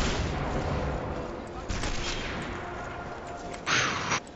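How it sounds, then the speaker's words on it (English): Mortar fire in the co-op shooter Sniper Elite 4 on a viaduct map, heard as a few distant muffled thuds over steady background noise, with one louder blast near the end. "That, I think, is a mortar."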